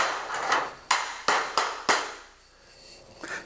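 Galvanized roofing nails are hammered to tack a metal drip edge on a pole barn roof, giving four sharp, close metal strikes spaced roughly a third of a second apart, then a quiet stretch.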